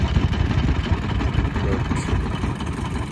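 Double-engined river boat on the Indus, giving a close, loud, continuous engine rumble with a throbbing low-end texture and faint background voices.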